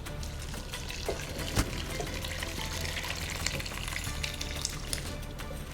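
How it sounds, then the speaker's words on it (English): Water poured into a pot layered with chicken and rice for maqloubeh, a steady close hiss of liquid mixing with sizzling, continuous for several seconds with no talk. "And we add the water."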